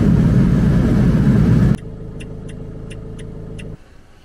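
A van engine runs loudly close by, then drops to a lower steady hum with light ticking as it drives off, and finally cuts to a quieter rumble.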